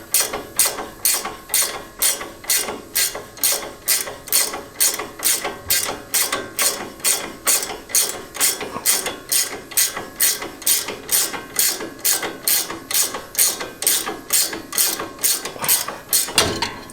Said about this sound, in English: So now we keep loosening this nut up.